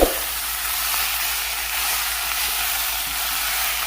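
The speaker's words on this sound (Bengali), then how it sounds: "1 থেকে 2 মিনিট এভাবে ভাজবো, তারপর আমার রান্না শেষ হয়ে যাবে।" Young jackfruit fries in a pan with Malabar spinach seeds and coconut, giving a steady, close, even sizzle that holds without a break from start to finish, with no voices.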